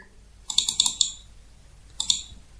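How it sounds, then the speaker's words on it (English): A computer mouse is double clicked twice during word-processing navigation: a quick cluster of sharp little clicks, then a second brief pair, close and crisp over a quiet room hum. "That's double clicking. Clicking it twice, right?"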